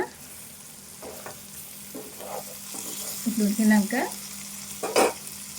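Egg curry simmers and bubbles in a pan, with soft sizzling and irregular bubbling pops that grow louder toward the end, close by and without talk.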